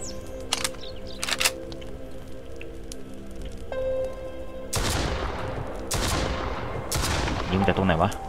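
Gunfire rings out in the Mist Survival game: a few faint distant cracks at first, then several loud close blasts with long echoing tails, over a steady mechanical hum.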